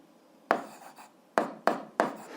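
Pen strokes writing an algebra expression, four short scratchy bursts in an uneven rhythm, close and fairly quiet with no talk.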